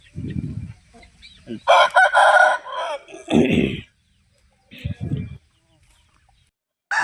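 A fighting-breed rooster at a poultry farm gives one loud, close crow, with a few short clucks and brief talk before and after, then quiet.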